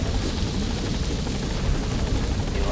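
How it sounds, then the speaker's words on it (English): Helicopter in Metal Gear Solid V: The Phantom Pain touching down, a loud, steady rotor roar with dense low-end thumping that holds constant throughout, no voices over it. "The chopper's touching down."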